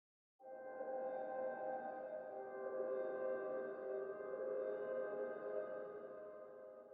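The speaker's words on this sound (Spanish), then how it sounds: "Aquí estoy utilizando el Cinematic Soft Piano de Spitfire Audio, que es un pad" Soft, sustained pad from Spitfire Audio Cinematic Soft Piano, a quiet, airy chord swelling in and holding for several seconds with faint shimmering upper tones, heard alone.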